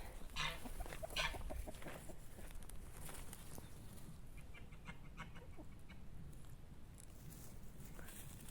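Hens in an outdoor run among tall grass cluck in short bursts over a steady rustling, wind-like background, with some calls nearer and others softer and farther off.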